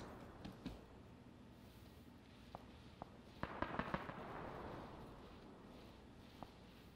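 Scattered distant gunshots in the video game PlayerUnknown's Battlegrounds pop sporadically, a quick cluster bursting out midway over a steady low rumble of background noise.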